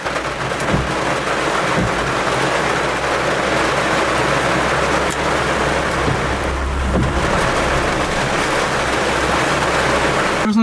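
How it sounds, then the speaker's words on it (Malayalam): Rain falls outside a vehicle driving through the hills around Kuttikkanam in Idukki, a loud, dense, steady hiss of drops drumming on the car with a low rumble underneath throughout. "മഴ പെയ്യാൻ തുടങ്ങി പുറത്ത്."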